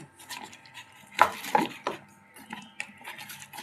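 Salted lentil fritter batter beaten by hand in a bowl, giving close, irregular soft slaps and sharp clicks with short pauses between strokes and no talking.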